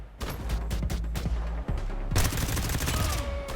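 Gunfire in the open-world video game Garena Free City: rapid bursts of shots crackle in quick succession, then a denser, louder barrage of automatic fire takes over in the second half.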